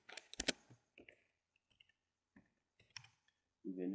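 Computer mouse clicking while working in Excel: a few sharp, close clicks in quick clusters with quiet gaps between them, and a short burst of speech at the end.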